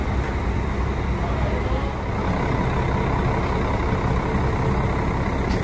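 A São Cristóvão G6 coach pulls up to a platform at a Brasília bus terminal on a morning. Its loud, steady engine rumble and road noise fill the scene without a break and drown out any other detail.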